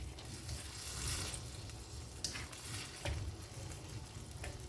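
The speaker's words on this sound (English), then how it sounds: "this ginger garlic and onion paste with the tomatoes will form the base of the gravy. Alright, so we'll just fry this for a little while." Ginger, garlic and onion paste with tomatoes fries as the base for a spicy mutton karahi gravy, giving a soft, fairly quiet bubbling sizzle with a couple of brief clicks from the pan and no speech.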